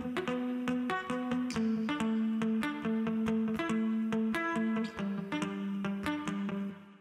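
An electric guitar played through an Amplitube 5 acoustic-simulator pedal picks a continuous arpeggiated pattern. Each note has a crisp, bright attack and rings into the next in a steady, rhythmic flow, with no voices.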